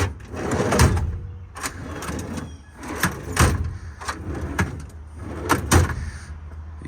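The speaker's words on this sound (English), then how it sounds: "Some drawers right here." Metal storage drawers in the compartments of a 2015 Ram 5500 service truck slide open and shut, giving several rolling rumbles and sharp knocks and clunks at irregular intervals, fairly close.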